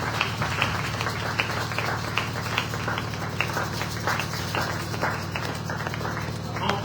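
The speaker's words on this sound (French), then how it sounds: "Tous vos applaudissements, s'il vous plaît." Audience applause at a church youth event, a fairly dense spread of clapping throughout, moderately loud with a low murmur of the crowd beneath it.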